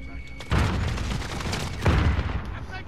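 Video game gunfire with two heavy bursts of booming shots, loud and close, each followed by a lingering rumble, with a voice faintly present.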